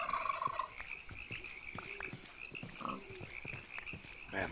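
Turkeys in the Minecraft mod Terrafirmacraft gobble in quick, rattling bursts, repeated several times over a quiet outdoor ambience with faint scattered clicks and no talking.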